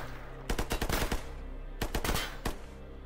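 Rifle fire in Stalker GAMMA from a bandit armed with an SVD. Two close, loud clusters of rapid shots crack out, separated by a short pause.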